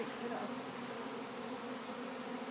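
Honeybees buzz steadily while a beehive is being set up, a close, continuous drone filling the moment with no pauses.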